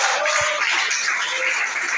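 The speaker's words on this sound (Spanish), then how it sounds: "Dele ese aplauso al Señor" A church congregation applauds together during a Pentecostal service, a thick, even burst of clapping from many people that fills the room for a couple of seconds.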